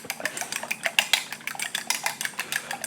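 A fork whisking eggs in a bowl, producing a fast, steady clatter of metal tapping against the bowl, close and fairly loud, with no talking.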